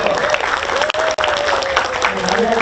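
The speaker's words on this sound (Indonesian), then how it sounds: "Tepuk tangan dulu untuk Bapak Edison." Studio audience applause for an election commissioner on a televised election talk show, brisk clapping with a musical tone and a host's voice running over it, briefly cutting out twice.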